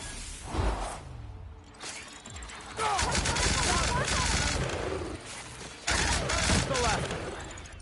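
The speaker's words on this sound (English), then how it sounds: "The Gatling makes such quick work of it." Gatling gun in the video game Outer Worlds firing in rapid sustained bursts, two long roaring volleys separated by a short pause, loud and close, with a voice talking early on.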